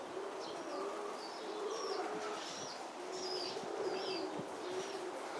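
Pigeons cooing and chirping while flying outdoors, soft repeated calls over a steady hiss of background noise, moderately distant, with no talking.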